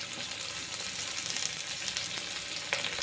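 Tomatoes and crushed green chillies fry in a pan for a mango-dried curry, giving a steady close sizzle with light crackle and a few scraping clicks throughout.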